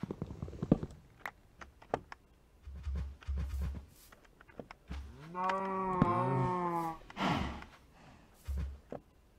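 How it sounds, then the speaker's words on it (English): Cows in the Minecraft video game let out a long, drawn-out moo in the middle, with shorter lowing calls and game clicks and thumps around it, and no talk. "You poor little cows."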